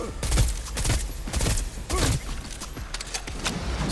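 Rapid bursts of gunfire in Cyberpunk 2077 during a heist firefight, loud and dense, with repeated sharp shots clustering in quick volleys across the moment.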